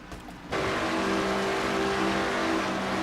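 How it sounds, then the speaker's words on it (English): Onboard engine roar of a Dodge Challenger stock race car in a racing video game, drafting during an NNSCRA Castrol GTX Cup race; a quiet lead-in gives way to a loud, steady, sustained drone. "On board Dylan Young's car, number 2, as he come off to number 2, drafting behind Matt Haas in number 18"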